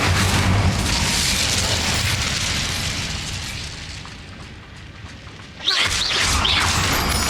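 An Incendio fire spell cast in Hogwarts Legacy: a loud, sustained roaring whoosh that thins out, then a sharp burst of fiery crackle flares up near the end.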